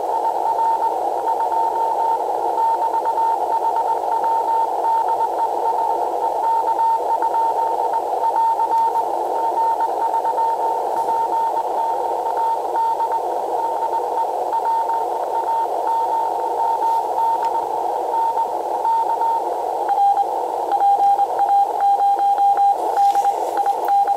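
Amateur radio receiver on a longwire antenna picks up CW Morse code as a steady, close beeping tone keyed in rapid dots and dashes over a constant band hiss, with a second signal appearing near the end.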